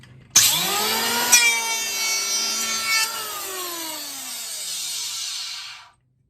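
A handheld electric power planer makes one pass along a length of timber: the motor whines up, then a steady loud cutting roar holds before spinning down and stopping. No voices.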